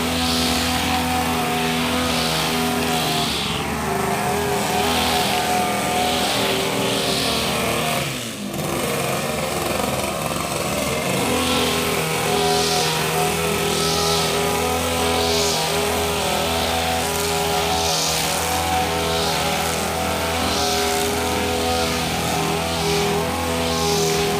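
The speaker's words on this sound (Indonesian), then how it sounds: "Ini mesin pemotong rumput tepi" A small petrol edge grass cutter engine runs steadily at high revs, loud and close with a constant buzzing drone and one brief dip partway through, no talk.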